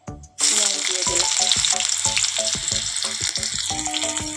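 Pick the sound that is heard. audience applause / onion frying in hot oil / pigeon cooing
onion frying in hot oil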